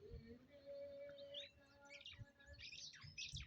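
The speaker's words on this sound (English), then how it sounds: "the weaver bird." Weaver birds feeding on scattered wheat outdoors in sunlight: a faint chorus of busy chirps and twitters over a low background hum, no voices.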